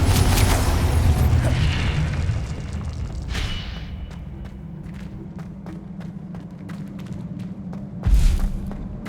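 Confringo spell explosions in Hogwarts Legacy, a loud fiery blast with rumbling decay, followed by sparse clicks and pops and a second sharp burst near the end.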